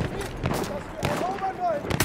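Battlefield 1 gunfire, with several sharp shots and impacts spaced out over about two seconds amid busy battlefield sound, on the Ballroom Blitz map in Conquest mode.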